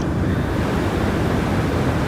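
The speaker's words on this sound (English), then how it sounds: "it's much louder now in the cockpit because of the winds" Wind roaring around the cockpit in Microsoft Flight Simulator 2020, a loud, steady broadband rush with no breaks, heard alone at close range.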